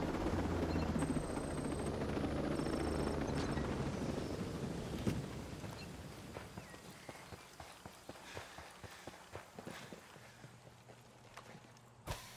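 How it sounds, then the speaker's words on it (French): Helicopter rotor chopping in the video game Ghost Recon Breakpoint, a loud steady throb at first that fades away, leaving scattered footsteps and clicks. "il y a un hélico en bas aussi"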